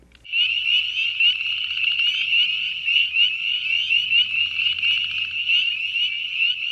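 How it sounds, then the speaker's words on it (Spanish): A frog calling in a steady, rapid trilling croak that goes on without a break, loud and close, with almost no other sound around it. "puede ser el sonido que hacen algunas ranas, porque hay ranas que suenan así"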